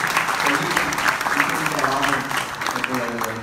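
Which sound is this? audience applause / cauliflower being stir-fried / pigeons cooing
audience applause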